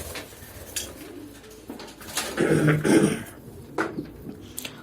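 Royal pigeons cooing nearby in a loft, a soft, throaty two-part coo rising loudly in the middle, with faint rustles and a few brief calls around it, no voices.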